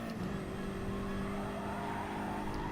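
Race car engines from an online racing video game, with a Porsche and a Corvette on track, drone steadily at a constant loud level with layered engine tones and no talk.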